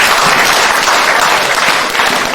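A church congregation applauds during a worship service, a dense, steady burst of many hands clapping together, loud and close, with no clear voices over it.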